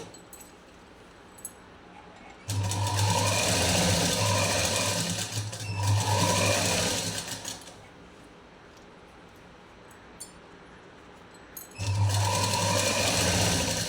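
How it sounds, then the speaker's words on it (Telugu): A domestic sewing machine stitches the lining of a blouse in two loud, steady runs close up, with a quiet pause between and a third burst starting near the end. "ఈ రెండవ కుట్టును కూడా వేసేసుకోవాలి"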